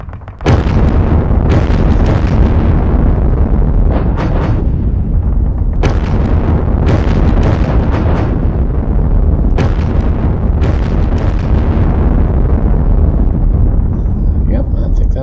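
Artillery fire in the Sealion '40 wargame: a heavy, continuous rumble of booming explosions, loud and dense, with repeated sharp blasts throughout.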